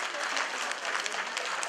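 Audience applause at a Romanian folk ensemble performance: dense, steady clapping from a crowd that fills the whole short stretch without a break.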